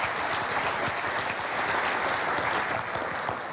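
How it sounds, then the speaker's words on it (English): Audience applause at a sold-out conference of close to 800 men, a steady dense wash of clapping from a large crowd, fairly loud and continuous with no voices over it. "But give them a round of applause."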